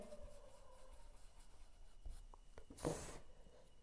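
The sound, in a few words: writing a maths answer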